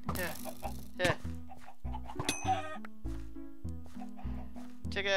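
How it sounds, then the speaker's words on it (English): Minecraft chickens cluck in short, repeated bursts across the scene, with blocky game sound effects mixed in and a player speaking briefly. "Another chicken."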